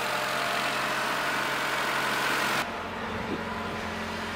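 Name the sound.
Honda car engine idling while warming up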